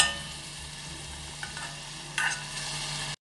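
Onion frying in olive oil in a pan, a steady low sizzle with a couple of brief stirring scrapes near the end, no voices.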